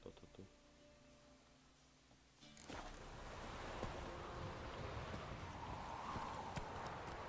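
Horse hooves clip-clop steadily in The Witcher 3 video game as the horse sets off, a continuous moderately loud trot following a quieter opening.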